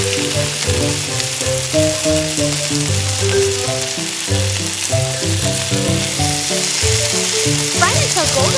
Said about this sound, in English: Drop the pellets into the oil pan one by one.